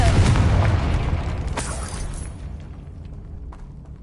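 In Hogwarts Legacy, the Confringo fire spell erupts in a loud, deep blast that rolls out and decays over a few seconds, with a sharp crackle partway through and faint debris settling after.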